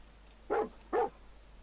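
Two short, sharp barks from a dog in the Fallout 4 video game ring out close and clear in quick succession over a quiet, faintly humming background.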